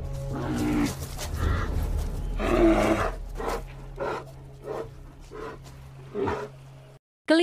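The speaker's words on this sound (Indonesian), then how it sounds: "beruang Kodiak biasanya mengeluarkan suara dengusan atau gonggongan" Deep, rough growls and snorts from a Kodiak bear come in several bursts, loud and close, ending in a brief pause of silence.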